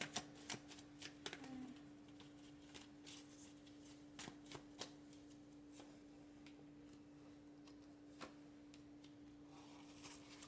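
Tarot cards being shuffled, a run of light crisp card flicks and taps at irregular spacing, close and fairly quiet against a faint steady hum, with no talking.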